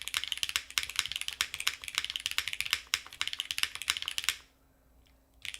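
Mechanical keyboard with Cherry switches and Obscura keycaps, Athena build, typed in a quick steady stream of crisp clacky keystrokes, close and fairly quiet, stopping briefly near the end before a few more presses.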